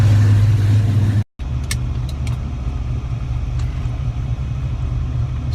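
A 1986 Ford Fox Body Mustang with a forged 408 Clevor engine idles after a cold start on a 30-degree morning, a loud steady low rumble heard close up, briefly cut by a short dropout before it resumes.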